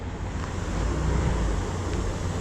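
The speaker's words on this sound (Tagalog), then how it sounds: "Yan, laki ng alon po sila." Big sea waves surge at Matnog pier in Bicol, Philippines, a continuous loud broadband roar of surf mixed with wind buffeting the microphone, steady throughout with no talk.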